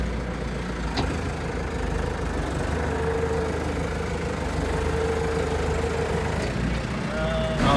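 A tractor engine idles and runs steadily nearby on a Korean beef-cattle farm while straw is hauled, a continuous low rumble with a faint rising whine near the end.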